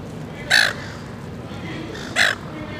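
A seagull calling outdoors near people, two loud, short harsh cries spaced about two seconds apart over steady background noise.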